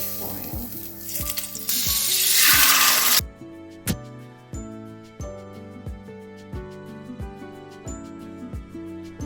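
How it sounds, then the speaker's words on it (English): Fish dropped into hot oil bursts into a loud hiss and sizzle, then settles into softer steady frying, punctuated by a regular series of sharp metallic clinks and taps. "Ready to add my fish to the oil."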